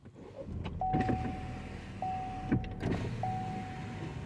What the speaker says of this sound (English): Let me roll these windows down.